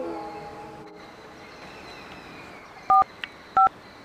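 A phone number is dialed to call the police, two sharp keypad tones sounding near the end over a faint rumbling background.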